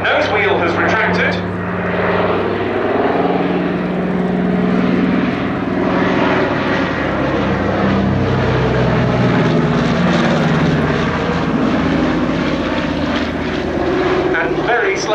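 Piston engines of a Catalina flying boat at an airshow, a loud sustained propeller drone that holds steady throughout while a commentator talks over it.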